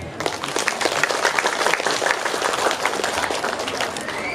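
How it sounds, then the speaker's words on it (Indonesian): An audience at an Indonesian Islamic sermon applauds the village head with dense, steady clapping that carries loudly through the whole stretch. "Tepuk tangan untuk Pak Lurah."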